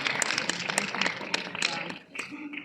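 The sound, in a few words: audience applause at a church conference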